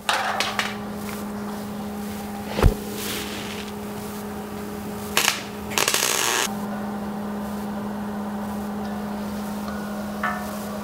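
Steel legs for an aquarium stand being tack welded: a steady electrical hum runs throughout, broken by a couple of short, harsh crackling bursts of welding mid-way, with a sharp clank just before.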